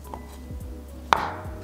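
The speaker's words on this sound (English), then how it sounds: "cut it into little bite-sized pieces" A kitchen knife cuts food into bite-sized pieces while Korean dishes are prepared, with a few soft taps on a board followed by one sharp, close chop and no talking.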